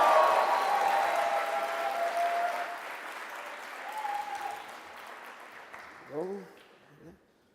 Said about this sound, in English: Huge round of applause for Lina.